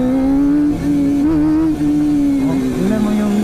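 A Kawasaki ZX25R four-cylinder motorcycle with an Akrapovic exhaust revs loud and close, its high steady engine whine rising and dipping through a few throttle blips, running continuously without any voices.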